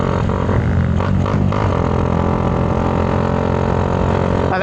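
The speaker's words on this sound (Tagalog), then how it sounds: "Nakita nyo naman yung andar ng makina nito mga toads." Honda Wave100 motorcycle engine running in a sleeper build, idling close up with a steady, loud mechanical drone and slight fluctuations, alone without talk.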